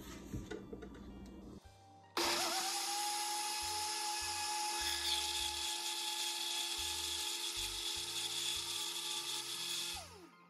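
A kitchen blender whirs loudly and steadily for about eight seconds, blending mango, pineapple, honey and milk into a smoothie, after a brief clatter of ingredients and before winding down near the end.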